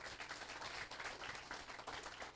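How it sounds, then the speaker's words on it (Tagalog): An audience at a leadership talk clapping: a dense, even wash of many hands applauding, steady and fairly distant throughout, with no voices standing out. "Sige po, palakpak tayo."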